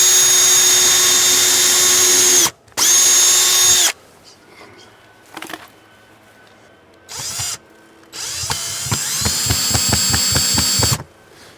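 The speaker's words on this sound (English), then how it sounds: "And then we'll drill some pilot holes." A drill driver whines at high speed while boring pilot holes for drywall screws during a Ring Spotlight Cam Plus installation. There are several loud bursts of steady motor pitch, separated by short pauses, knocks and handling noises, and the last burst slows and stutters.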